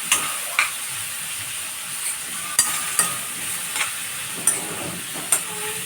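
Tomato pieces sizzling in a kadai after golden-fried seasoning, a steady close hiss of frying with sharp spatula taps against the pan every second or so, no talking.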